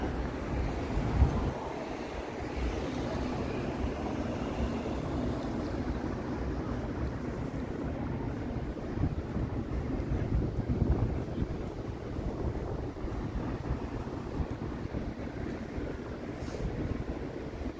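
Strong wind blowing along a Toronto street on a cold late-November day, a continuous low rumbling buffet across the microphone that lasts the whole stretch, with no one talking.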